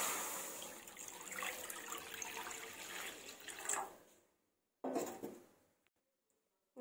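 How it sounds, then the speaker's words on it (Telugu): Water runs and splashes steadily into a pan on a kitchen stove, a continuous pouring rush that stops abruptly, followed by a brief second splash and then quiet. "ఒక ప్యాన్ పెట్టుకొని వాటర్ పెడదామండి."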